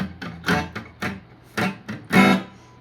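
A muted electric guitar plays a chugging riff of short, choked bursts in a rough rhythm, close and alone.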